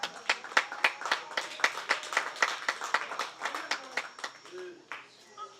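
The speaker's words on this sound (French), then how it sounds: "I want people to acclaim for King Roberto." An audience at King Roberto's certification ceremony in Kambeti, Cameroon, claps in a rhythmic, fairly close applause of sharp, regular hand claps that trails off near the end, with faint voices underneath.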